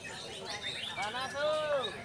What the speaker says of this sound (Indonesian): para peserta yang berusaha memancing agar burung kicau mereka tampil memukau